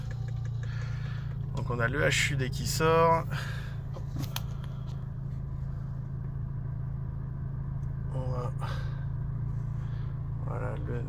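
A Renault Mégane RS Trophy 300 hp engine turns over and settles into a steady low idle, with someone talking over the rumble and a brief rev near the start.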